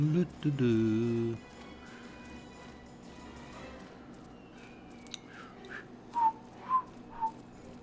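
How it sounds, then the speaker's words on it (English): A person whistles a short tune at the start, a few sustained notes, followed by quieter background noise and a handful of brief higher chirps later on. "wonder how whistling shows up when you're doing a VTuber"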